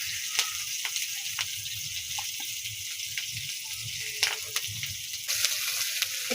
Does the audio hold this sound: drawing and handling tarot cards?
no